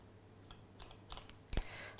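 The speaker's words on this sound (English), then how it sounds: "we're going to take some scissors and cut a slit halfway up the circle" Scissors cut a slit into a wafer paper circle, making a few faint, soft snips in a quiet room and ending in one sharper click.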